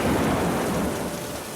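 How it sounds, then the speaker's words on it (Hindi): Steady heavy rain falls in a dense, continuous hiss, joined by a deep, low thunder rumble. No voices are heard. "बारिश अब भी लगातार हो रही थी।"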